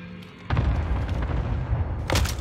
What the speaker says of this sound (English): And now we got a sequencer grenade.